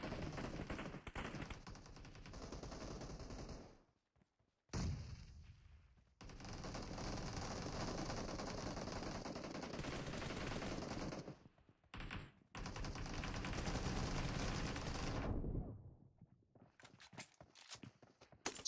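Sustained rapid gunfire from an online video game room match, loud and dense bursts with brief pauses, continuing almost without break across the clip.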